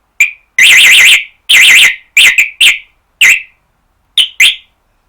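A Texecom external alarm siren blares in loud, close bursts of warbling electronic tone, several long wails broken by shorter blips and pauses, with no one speaking.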